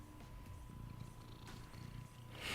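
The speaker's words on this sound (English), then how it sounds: "Could hear her purring." A pet cat settling down purrs softly near a microphone, a faint, continuous low rumble with a brief brighter rustle at the very end and no voices.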